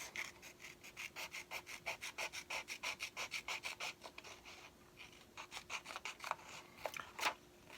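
Scissors snip out a football shape from paper, a quick, regular run of close, crisp cuts followed by a few slower, irregular snips, with no voices.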